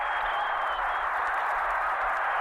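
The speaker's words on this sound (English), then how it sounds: "The ovation for the New York Knicks as they head back on the court. The crowd is overwhelming." Sustained roaring ovation from a packed basketball arena crowd cheering the 1972-73 New York Knicks, a dense steady wash of applause and voices with no break.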